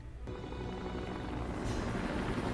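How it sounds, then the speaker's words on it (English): Helicopters in the animated film Son of Batman, a steady loud rotor and engine roar that holds constant throughout, with no talking over it. "They got helicopters too, Aaron."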